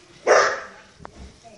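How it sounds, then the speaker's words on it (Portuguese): A grandmother's dog at a house gate gives one loud, close bark, followed by a brief quieter yelp and faint rustling. "Olha o cachorro da minha avó."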